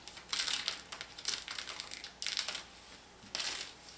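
Excess stabilizer backing is ripped away from a freshly stitched reindeer applique off a Brother Persona PRS 100 embroidery machine, giving several sharp, close tearing and crinkling bursts in irregular spurts with short pauses, no voices.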